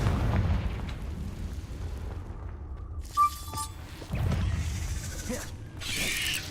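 Confringo spell explosions in the Hogwarts Legacy video game: deep rumbling blasts and shattering bursts layered over a continuous low game soundscape, with sharp bright crashes recurring every second or two.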